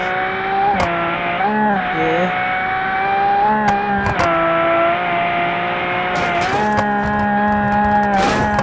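A supercar engine revs hard in BeamNG.drive beside a broken bridge, a loud sustained tone with several sharp pitch shifts and brief clanks, steady and close throughout.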